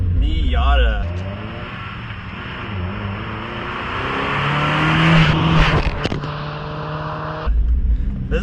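NB-generation Mazda MX-5 Miata on the move, its engine note rising and falling through gear changes with steady harmonic drone and a sharper surge near the end, loud and close with road noise underneath.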